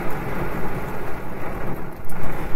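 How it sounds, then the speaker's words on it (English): Heavy rain pours down in a storm, a dense loud roar of drops that swells and surges with low rumbles of thunder underneath, continuous throughout and with no voices. "I hope you guys can hear me over this rain. This is intense and insane."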